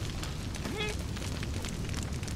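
Heavy explosions in the Conan Exiles video game during a raid on a hidden base: a continuous roaring, rumbling blast wash that stays loud throughout, with a brief rising tonal whine partway through.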